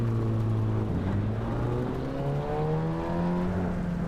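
A Volkswagen Golf engine in the Assetto Corsa EVO racing game, a steady droning hum whose pitch climbs smoothly through the revs, then drops back and rises again, loud and continuous with no voices over it.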